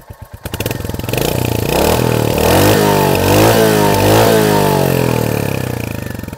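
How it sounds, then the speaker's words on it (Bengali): Exhaust of a Royal Enfield Hunter 350 motorcycle catches and then is revved repeatedly up and down, loud and close, with a throaty pulsing note settling back toward idle between throttle blips. "দেখুন আমি থ্রোটল দিচ্ছি,"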